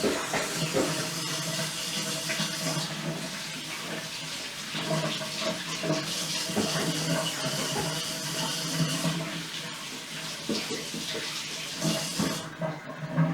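Hands are washed under a kitchen tap, the water running loud and close in a continuous splashing gush that stops near the end.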